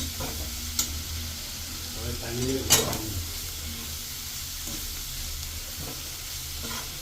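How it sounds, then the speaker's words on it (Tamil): Onions, tomatoes and green chillies sizzling in butter in a pan with occasional stirring scrapes, a steady frying hiss close by and no talking. "முதலில் 2 வெங்காயம், 5 தக்காளி, 4 பச்சை மிளகாய் அனைத்தையும் நன்றாக வெண்ணெய் விட்டு வதக்கி கொள்ளவும்."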